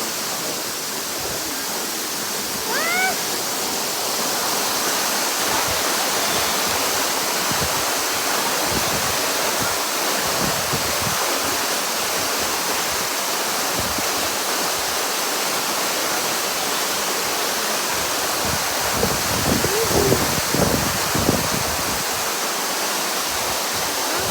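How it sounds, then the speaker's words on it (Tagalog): The waterfall at Lanzones Falls in Siniloan, Laguna, rushes in a constant, loud, dense hiss of falling water, with faint brief sounds that might be voices now and then. "Dun tayo sa waterfall."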